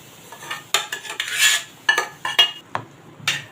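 Metal clinks and scrapes as a kadhai is handled on a gas stove while cooking dal: a run of sharp, close clanks with brief scraping in between, no talking.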